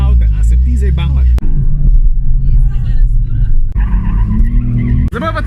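Car revving and skidding with tyre squeal at a Komotar car meet on a race track, loud and close, with someone talking over the engine noise throughout.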